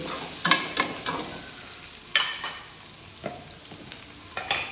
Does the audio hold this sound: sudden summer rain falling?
no